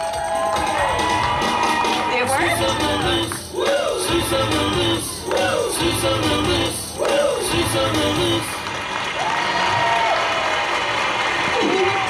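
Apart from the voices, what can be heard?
theme park audience cheering and applauding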